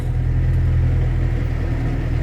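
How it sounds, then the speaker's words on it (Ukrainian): A tractor engine pulls a SICH 6-row seed drill, holding a steady, close, loud low rumble with an even throb and no change in pace throughout. "Поїхали стає на полосу трактор, сам, бачите, я руля не крутю, сам став і рушив."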